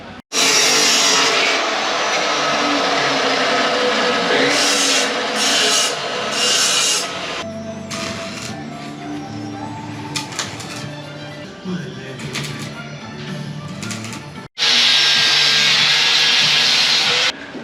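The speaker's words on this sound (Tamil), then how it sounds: "அடுத்தது வந்து வெல்டிங் வேலையை ஆரம்பிக்கலாம்." A harsh, steady rasping hiss of welding or grinding work on a Hero XPulse motorcycle part runs loud and close, drops to quieter clatter and tapping in the middle, then resumes abruptly near the end.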